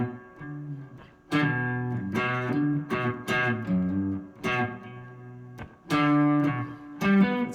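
An electric guitar with effects plays blues chord tones over the one chord, close and alone. Single notes and double stops ring out in a loose phrase, sustaining between the picked attacks.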